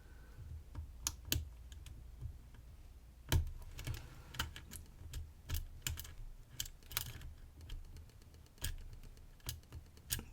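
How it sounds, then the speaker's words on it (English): A lock pick clicks against the wafers of a Bricard Bloctout double-bitted lock, with sharp, irregular ticks and small metallic clicks scattered through a quiet, close-up scene. "Click on the first wafers. On the right hand side, they'll click there."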